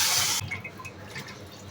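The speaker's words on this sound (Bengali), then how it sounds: "তো পরিমাণ মতো পানি দিয়ে দিচ্ছি আমি" Water poured into a pot of fried rice and lentils for khichuri, a loud rushing pour at the start that cuts off quickly, followed by faint dripping and settling sounds.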